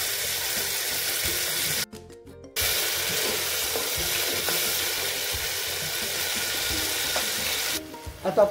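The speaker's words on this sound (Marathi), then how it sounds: "आपण 1 टोमॅटो बारीक चिरून घालत आहे।" Finely chopped tomato frying in a pan for a Marathi-style vegetable curry, a loud close continuous sizzle with stirring clatter, briefly interrupted by gaps and ending with a few utensil knocks.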